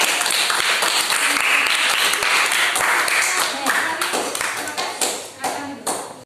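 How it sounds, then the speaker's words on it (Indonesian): A classroom group claps together in sustained applause, dense and steady at first, then thinning into scattered hand claps toward the end. "Ya, kasih tepuk tangan."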